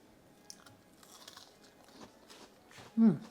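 A bite into a crispy, piping hot dahi vada gives one loud crunch near the end, after quieter handling and faint chewing-like sounds.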